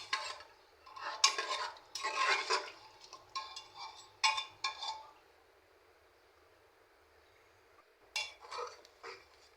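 A spoon scrapes and clinks against a pot as spice masala is stirred for an ash gourd curry, in short irregular bursts with quiet gaps between.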